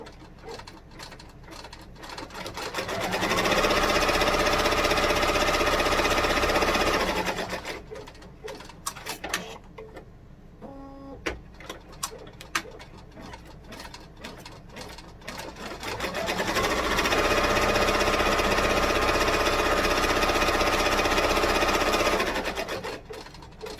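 A sewing machine stitching a pig hand sanitizer holder runs in two steady, loud bursts of rapid mechanical whirring, with a quieter pause of handling clicks between them.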